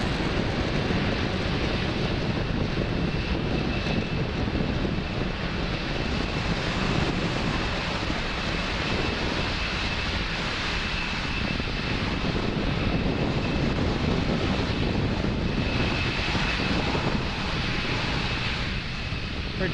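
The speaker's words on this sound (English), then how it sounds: "Falcon 9 clearing the tower at Space Launch Complex 40 and making its way to orbit" SpaceX Falcon 9 rocket lifting off from Space Launch Complex 40, its Merlin 1D engines producing a steady, dense roar that fills the whole clip without letting up.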